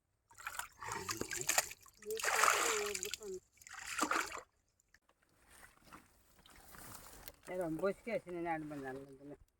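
Water splashed out of a muddy village pit to catch fish, with bursts of sloshing and splattering between pauses while people talk nearby.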